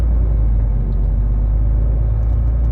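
Low, steady rumble of a car engine inside the cabin while creeping through a tight turn on a narrow rural road, loud and continuous with no talking.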